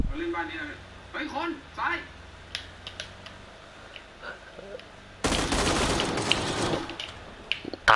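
Rapid bursts of gunfire in the video game PUBG, a sharp crackling volley near the end, with faint voices talking between the shots.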